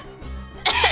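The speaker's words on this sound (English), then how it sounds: "You're just gonna hear me coughing all the time." A streamer lets out a short cough or throat-clearing during a co-op game session, a brief voiced rasp followed by a harsh, breathy burst, close to the microphone.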